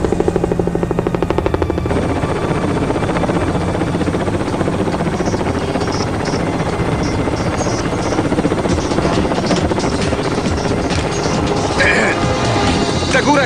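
A helicopter's steady rotor roar in the TV series Connor Undercover fills the scene alongside loud crashes and action noise, constant and close throughout.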